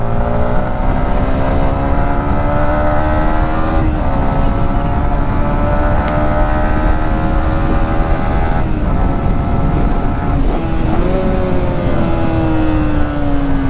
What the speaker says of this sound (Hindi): मतलब स्टॉक एग्जॉस्ट भी ऐसी थंप आपको निकाल के देने वाला है हायर आरपीएम पे